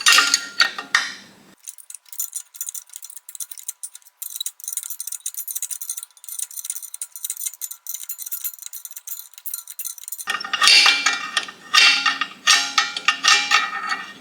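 Metal clicks and light taps as a screwdriver catches and flicks around the torque converter of a locked-up engine in a rusty Jeep, quiet and irregular, with louder clatter at the start and end.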